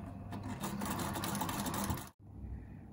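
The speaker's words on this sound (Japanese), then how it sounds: "縫い代を待ち針で留めたら襟ぐりを四角くミシンで縫っていきます。" Sewing machine stitching a square neckline on a blouse, a steady fast mechanical whir running close and continuous for about two seconds before stopping abruptly, followed by quiet room tone.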